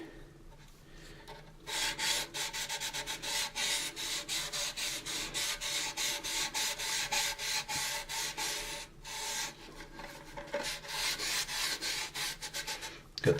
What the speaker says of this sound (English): I'm going to sand up in here, and you can sand along here too